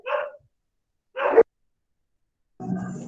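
Dogs bark in three short separate bursts with silence between them, with the last burst longer and rougher.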